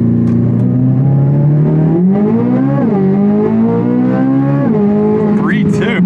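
A C8 Z06 Corvette launches from a 3,500 RPM launch-control hold and accelerates hard toward 60 mph, its loud, close engine howling up through rising gear pulls with brief shift dips, continuous and unbroken.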